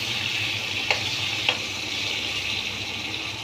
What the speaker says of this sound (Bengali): হালকা মিডিয়াম আঁচে এই আমড়াগুলোকে আমি একটু অল্প ভেজে নিচ্ছি